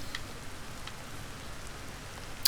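Soft, steady patter of rain with a light wind hiss in the video game Ancestors, continuous and fairly quiet, ending with a brief sharp click.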